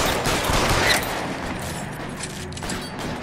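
Gunshots in the LA Noire video game, a rapid continuous volley of shots with mechanical clatter, fairly loud throughout.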